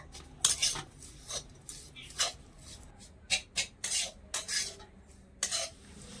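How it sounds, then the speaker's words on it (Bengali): A spoon scrapes and clatters in a pan while jaggery and grated coconut filling is stirred together, a series of irregular close scraping strokes with quiet pauses between them. "এবারে নেড়ে ছেড়ে ভালো করে মিশিয়ে নেব গুড় আর নারকেলটা"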